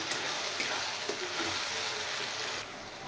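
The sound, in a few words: frying mustard, ginger, onion and green chilli paste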